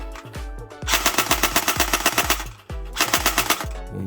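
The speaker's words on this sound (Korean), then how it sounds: "연발 사격 시 이 정도면은 만족스럽고요. 단발일 때는 딱 시작점이 맞지가 않아요." Modified Academy AK47 electric airsoft gun with electric blowback firing full-auto, two rapid close bursts of sharp mechanical clacks, a brief pause between them.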